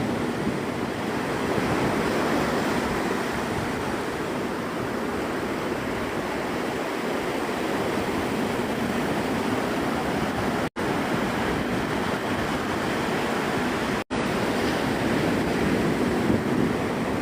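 Steady roar of ocean waves breaking on Navarre Beach, Florida at sunset, a constant broad wash of surf with some wind, loud and unbroken throughout.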